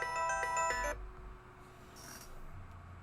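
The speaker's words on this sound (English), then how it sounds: "Not expecting phone calls this time of day." A phone rings with a steady electronic tone during a video game stream, loud and alone for about a second, then a fainter chime follows against quiet background noise.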